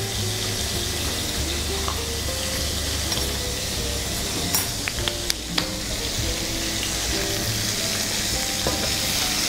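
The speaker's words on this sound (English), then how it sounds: "while the burgers are cooking away like that" Burgers sizzle and fry in a hot pan with a steady, dense crackle throughout, and a few faint clinks of utensils are heard near the middle.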